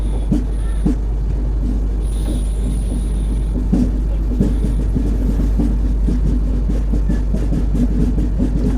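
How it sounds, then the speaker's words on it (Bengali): The Anga Express passenger train runs toward Vizianagaram station, heard from an open doorway: a loud, steady rumble with wind noise and irregular rattling clicks of the wheels and carriage, without speech. "আমাদের ট্রেন এখনো 15 মিনিট বাকি বিজয়নগরম গ্রাম স্টেশন ঢুকছে"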